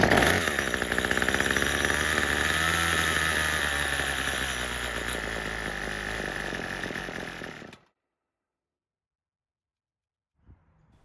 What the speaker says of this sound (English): the good news is that the engine starts and runs